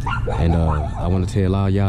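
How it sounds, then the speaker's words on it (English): A dog barks and yips in short bursts close by while someone talks over it, outdoors at a riverbank during a crappie fishing trip. "that's my dog barking"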